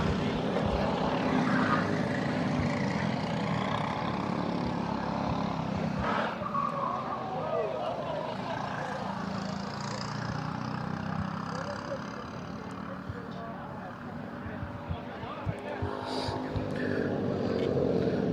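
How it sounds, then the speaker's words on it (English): LO206 cadet racing karts pass on the track into the first turn at a national kart race, a loud, continuous buzz of small engines that dips briefly and then swells back up. "Seville to the inside, going to make the pass on Gadara as they come down into turn number 1"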